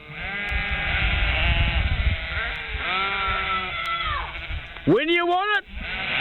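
A sheep bleats in a wavering, nasal cry lasting about half a second, loud and close, cutting in right after a person speaking over background music.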